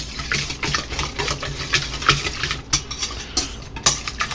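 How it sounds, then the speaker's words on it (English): Ricotta-based cannoli filling with almond and vanilla being whisked in a bowl, a rapid, continuous run of clicking and scraping strokes against the bowl, with no voices. "let's whisk this together."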